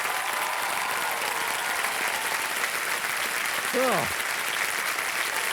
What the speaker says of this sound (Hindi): तालियां बजती रहे मुस्कान के लिए